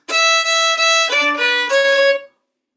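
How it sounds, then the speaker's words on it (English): A fiddle plays a short, smooth phrase of an Acadian fiddle tune straight, without ghost bowing, about five sustained bowed notes, close and fairly loud with no talking, ending cleanly after a couple of seconds. "So without the ghost bow, just playing it straight, it sounds like this."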